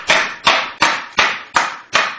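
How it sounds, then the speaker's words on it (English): Hammer blows striking the blower housing of a lawnmower engine being converted for a go-kart, six sharp metallic impacts in a steady rhythm about a third of a second apart, close and loud with short decaying rings. "I could only just find a hammer around the shaft."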